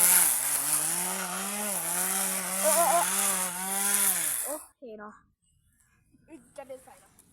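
A modified lawn mower engine rigged as a cutter screams at high revs while biting into a tree, its loud, wavering whine rising and dipping for several seconds before cutting out, followed by brief bursts of talk.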